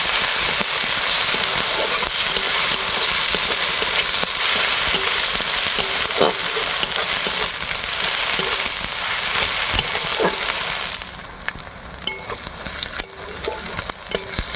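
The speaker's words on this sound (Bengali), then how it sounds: "এবার আমি দেবো হলুদ গুঁড়ো লঙ্কা গুঁড়ো আবার ভালো করে কষিয়ে নেবো" Ginger, garlic, turmeric and chili powder sauté in hot oil for a river chanda fish curry, a steady loud sizzle with scraping stirs throughout, easing slightly near the end.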